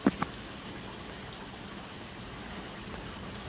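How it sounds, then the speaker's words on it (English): Heavy rain pours outside onto a porch, a steady soft hiss throughout, opening with two sharp taps close by. "Now it's pouring extra hard."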